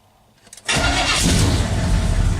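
Engine of a Chevrolet El Camino cranking and failing to start: near-silence, then at about 0.7 seconds a sudden loud, steady mechanical roar that holds close and unbroken to the end, with no voices.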